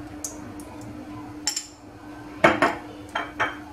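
A frying pan is handled and set down with olive oil in it, giving several sharp metallic clinks and knocks spread out over a few seconds, with a steady low hum in the background.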